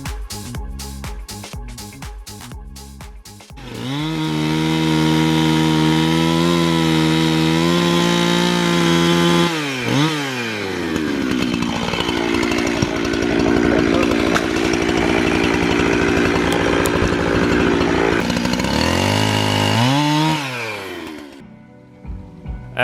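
A chainsaw cuts wet timber for firewood at a camp on the east coast of Australia, its engine loud and close, idling then revving hard into long sustained cuts with pitch swings between bursts.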